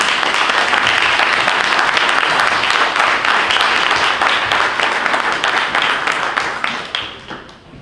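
Loud audience applause welcoming speakers at a Ramadan community program, a thick close burst of clapping that holds steady and then tapers off at the end.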